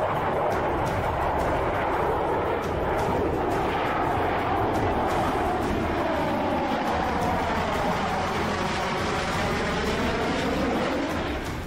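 A Rafale fighter jet flies past, its loud engine roar swelling and shifting in pitch as it passes overhead, a sustained rushing drone that fades slightly at the end.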